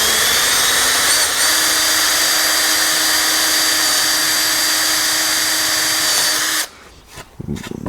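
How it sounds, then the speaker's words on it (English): Loud, high-pitched whine of a power drill with a big bit boring through an MGA floorboard, running continuously for about six seconds, then cutting off into a few clunks and handling noises. "put the big drill bit on one side of the hole"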